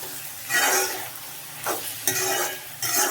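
Onions frying in a pan for chicken curry are stirred in several scraping bursts over a steady sizzle, close up with no talking.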